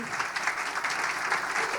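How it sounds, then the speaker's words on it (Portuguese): Audience clapping at a youth arts event on Avenida Paulista, a dense steady burst of applause from a crowd, close and sustained throughout. "Uma salva de palmas para ele."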